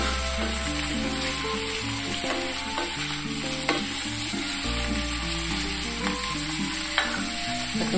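Cucumber pieces stirred in a pan over a medium flame, a steady close sizzle of frying with repeated scraping and stirring strokes running throughout, no voices.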